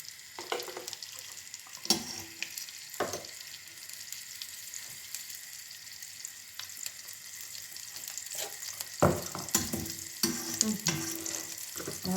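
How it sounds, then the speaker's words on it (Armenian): Melted butter going into a pot for raisin pilaf, sizzling and crackling with intermittent clatter and stirring knocks, close and fairly quiet. "Հիմա ես կավելացնեմ հալած յուղ"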